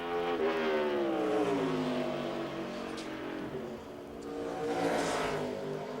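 A NASCAR Busch Series stock car at Richmond International Raceway on a 2007 qualifying lap, its engine roaring loud and steady with pitch sweeping down then rising again as it circles, no voices over it.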